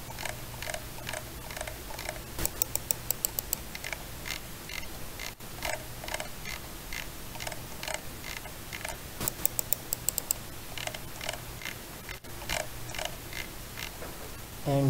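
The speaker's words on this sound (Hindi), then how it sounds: "क्लिक्स की साउंड अच्छी है लेकिन स्क्रॉल व्हील की साउंड इतनी अच्छी नहीं है" Scroll wheel of a budget computer mouse rolling, heard up close as a steady run of faint ratcheting clicks that comes in two busier bursts, with no voices.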